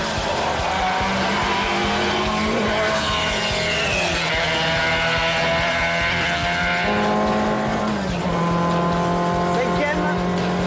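A Renault 5 Alpine driven hard on a race track, its engine revving and pitching up through the gears with a clear shift drop, loud and in-car, while someone talks over it.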